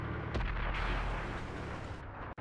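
A tank gun firing at enemy artillery in World of Tanks: one heavy boom with a long rumbling tail, loud and close, with no talk over it.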